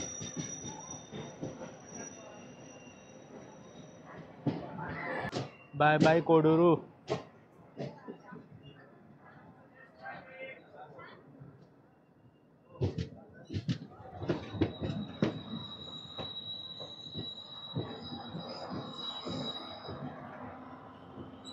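A DEMU diesel train pulls out of Koduru railway station on the Renigunta–Kadapa line, wheels squealing sharply over a steady rumble and rattle. People talk nearby throughout.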